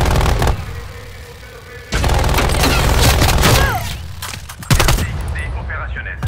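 Automatic turret fire in the Call of Duty Black Ops Cold War video game: loud, rapid bursts of gunfire and booming impacts in several dense volleys, with a brief game voice line mixed in.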